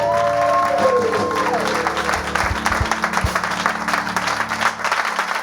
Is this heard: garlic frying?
no